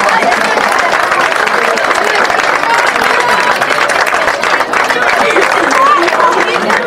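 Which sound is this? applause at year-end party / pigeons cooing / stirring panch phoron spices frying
applause at year-end party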